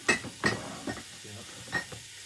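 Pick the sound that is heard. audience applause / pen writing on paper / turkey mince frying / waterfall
turkey mince frying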